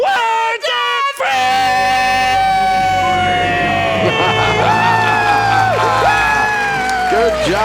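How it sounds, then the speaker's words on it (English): A family shouts and screams together in loud celebration after a countdown, voices high and sustained for several seconds after a brief pause. "Let's hear a great debt-free scream"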